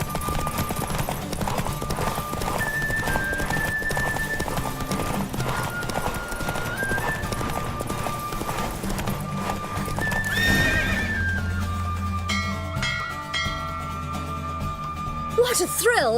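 A horse gallops with rapid, steady hoofbeats in The Witcher 3 video game, then gives a loud whinny near the end, under music and with voices speaking over the ride.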